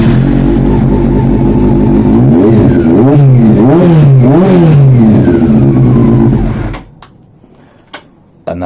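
Honda CB400 Super Four motorcycle engine idling steadily and loud up close, with several throttle blips that rise and fall in pitch mid-clip, then it cuts off and only a few faint knocks and clicks remain.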